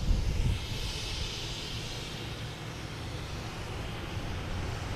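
British Airways airliner on approach to Boston Logan Airport, a steady broad roar of jet engines holding near-constant loudness for the whole stretch, slightly louder at the very start, with no voices.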